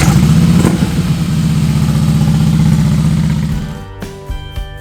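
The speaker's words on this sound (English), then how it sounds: "I'm taking you on a motorcycle ride." Motorcycle engine runs steadily and loud at close range with a strong low throbbing drone, then eases off near the end as the revs drop toward idle.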